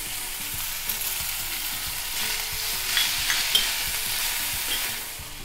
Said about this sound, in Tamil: இப்போ வந்து நம்ம இஞ்சி, அப்புறம் சௌச்சவ் தோல், அப்புறம் விதை உடலங்காய் விதை எல்லாத்தையும் சேர்த்து ஒரு வதக்க வதக்கிடலாம்.